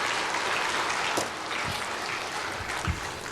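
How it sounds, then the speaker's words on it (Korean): Applause from a seated audience at a pastor's lecture, a steady wash of clapping at moderate distance with a few louder individual claps standing out. "박수, 박수."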